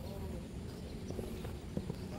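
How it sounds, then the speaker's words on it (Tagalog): Horse hooves clip-clopping on the ground at a picnic grove, a few faint uneven knocks beneath nearby chatter. "Ayun, may kabayo."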